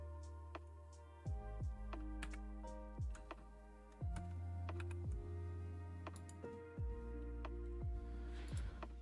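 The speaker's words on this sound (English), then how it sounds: "It's a cool keyboard, but I'm not used to those small little keys because they want to fit arrows." Rapid typing on a computer keyboard with small keys, light clicky keystrokes tapping in quick irregular bursts, close by, layered over a steady tonal background with no talk.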